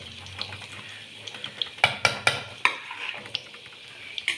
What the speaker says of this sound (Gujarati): બધું આમાં નાખી દઈશું। પછી હલાવી લઈશું।